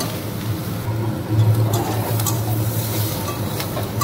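Meat and rice fry steadily in a pan, giving a continuous sizzle with a low, even hiss that carries on without pauses.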